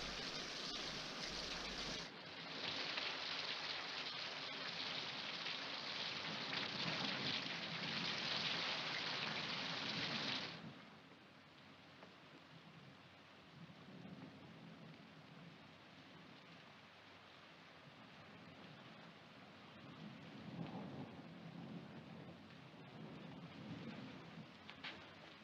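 Steady rain pours in a dense hiss while low thunder rumbles underneath. The downpour is loud at first, then drops to a quieter, even patter with occasional deeper rolls.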